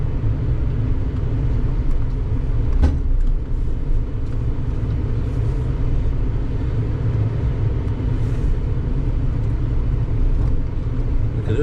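An off-road vehicle engine on a December trail in Bulgaria drones with a steady, loud low rumble for several seconds, and a brief knock is heard partway through. No one speaks.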